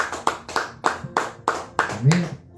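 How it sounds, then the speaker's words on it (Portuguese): Rhythmic clapping from a church congregation on Palm Sunday, about six steady claps, with voices underneath. "Aplauda o Senhor bem forte em nome de Jesus"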